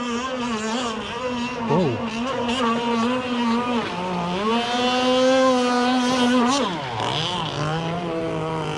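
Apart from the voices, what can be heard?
R/C boat Bonzi Enforcer Team Pro engine revving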